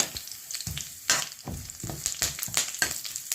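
Ground masala paste sautés in a pan of anchovy gravy, crackling and spitting in uneven bursts with scraping stirs, close and moderately quiet, no talk.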